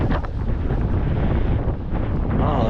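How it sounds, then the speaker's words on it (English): Strong wind blows under a big piñon pine, buffeting the microphone with a loud, continuous low roar and rustling gusts throughout. "It's super windy today."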